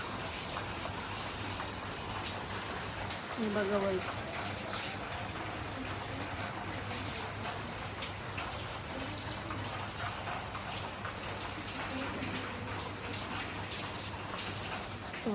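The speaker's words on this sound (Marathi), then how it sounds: "आमच्याकडे आता पाऊस पडतो" Steady morning rain falls continuously, a dense even hiss of drops on surfaces with no breaks, and a voice speaks briefly partway through.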